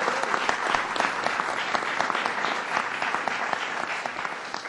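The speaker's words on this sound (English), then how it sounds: "give a big round of applause to Bob Duffy" A large audience gives steady, vigorous applause for a lieutenant governor at a political event, with dense individual claps audible throughout and no let-up, heard alone without talk.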